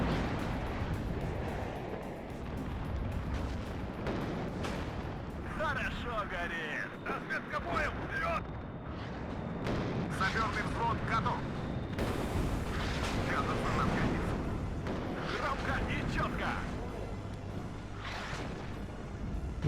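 Artillery fire in the war game WARNO, repeated heavy booms and rumbling blasts in a dense battle mix, heard under someone talking.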